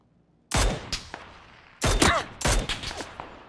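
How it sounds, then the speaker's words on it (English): Gunfire in a video game, with close, loud bursts of shots in three clusters, each with several rapid cracks and short echoing tails. "I get shot from the left too."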